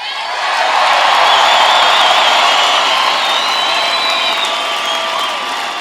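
A large crowd at a Denver political victory rally roars with sustained cheering, whoops and applause, a dense, bright wash of voices and clapping that swells early and stays loud throughout.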